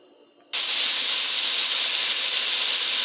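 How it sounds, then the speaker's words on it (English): Ground meat with broccoli and zucchini drops into a hot pan and bursts into a loud, steady hiss of stir-frying that starts abruptly and holds evenly for a few seconds, close and alone. "I will do this stir fry broccoli, zucchini, and with the ground meat"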